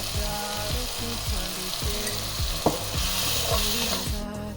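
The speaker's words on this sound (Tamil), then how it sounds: "சேர்த்து எண்ணெய் நல்லா பிரிஞ்சு வர்ற அளவுக்கு ஃப்ரை பண்ணலாம்" Tomato masala sizzles and crackles steadily in hot oil in a pan, with rhythmic stirring scrapes repeating through the clip and a single sharp knock midway.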